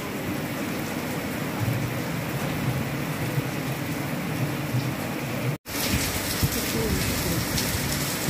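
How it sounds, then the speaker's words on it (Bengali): Heavy monsoon downpour drumming steadily on surfaces during a thunderstorm, a dense continuous hiss that stays loud throughout with a brief dropout near the end. "মুষলধারে বৃষ্টি হচ্ছে"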